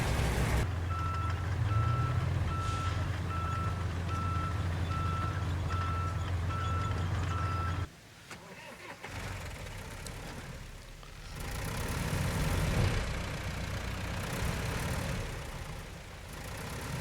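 A truck in RoadCraft gives off a regular reversing beep over a steady low idling engine hum, then the beeping stops and the engine rumble changes and swells, close and continuous.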